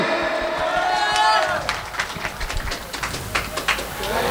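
Applause from the audience at a live Bengali folk song performance: a dense, irregular patter of many hands clapping that rises after a fading sung line and keeps going steadily, fairly close.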